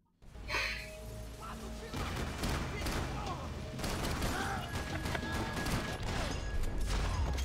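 Gunfire in the video game Max Payne 3, with dense, rapid shots and crashing impacts filling the clip, mixed with game effects and a person's gasps and reactions.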